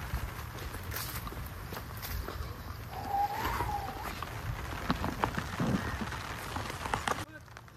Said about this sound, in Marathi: अति प्रचंड असा पाऊस पडतोय।